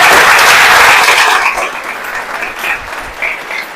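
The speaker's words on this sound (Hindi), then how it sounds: "एक बार सारे ताली बजा सके हैं" An audience at a motivational business talk claps together in dense, loud applause that gradually thins and softens over a few seconds.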